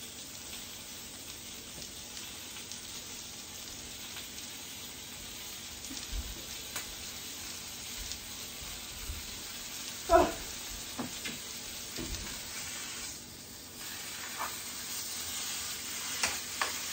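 Bacon strips sizzling in a pan, a faint continuous crackle with a few louder clatters and pops partway through, no voices.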